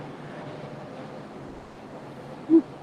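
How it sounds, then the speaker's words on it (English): Steady wind rushes and buffets a microphone in a continuous broadband roar, ending with a brief low thump. "It's windy."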